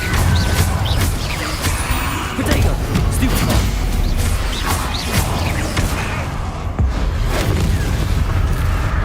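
Stupefy spell cast in Hogwarts Legacy, a series of loud booming magical blasts and crashes in quick succession, with a player's voice shouting over the game effects.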